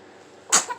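A baby sneezes once, a short sharp burst that rises out of near silence and fades with a small trailing catch, close and fairly loud.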